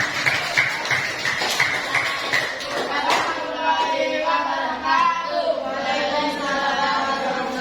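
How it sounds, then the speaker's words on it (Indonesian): Classroom of children clapping for group 3 after a presentation, uneven bursts of hand claps with children's voices and chatter mixed in, close and lively. "Tepuk tangan untuk kelompok 3."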